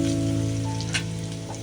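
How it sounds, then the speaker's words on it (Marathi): Crushed garlic frying in oil in a pan, giving a short, steady, close sizzle with a faint background hum and no talk. "ठेचलेला लसूण टाकूया आपण त्याच्यामध्ये. छान असं तेलावर थोडा परतवून घेऊया."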